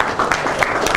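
A breakfast meeting audience gives a brief, polite golf clap: a short patter of scattered hand claps, close and fairly loud, lasting about a second.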